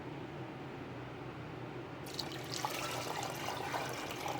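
Water is poured onto washed rice and moong dal with black pepper for venpongal, a steady close pouring and splashing wash that grows brighter and fuller partway through, with no talking.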